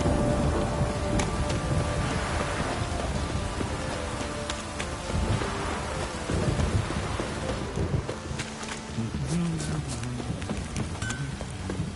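Steady rain pours throughout in the video game The Witcher 3: Wild Hunt, with low rumbles of thunder rolling underneath; no voices, just a constant wet hiss.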